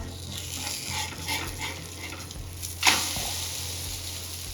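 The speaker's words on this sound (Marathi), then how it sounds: "आता आपल्याला गोल्डन कलर येईपर्यंत अंडा ऑमलेट तळून घ्यायचा आहे" A street-style egg omelette fries in a pan with a soft steady sizzle, broken by a brief louder scrape or clatter partway through as it is handled.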